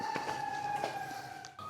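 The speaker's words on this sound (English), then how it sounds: "In case you heard the fire sirens in the background." Fire sirens wail faintly in the distance outdoors as a steady high tone with some warbling, heard alone at low level.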